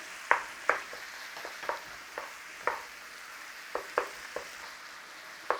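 Minced beef fries in a pot while a utensil scrapes and taps against the sides in a dozen or so irregular sharp knocks over a low, constant sizzle.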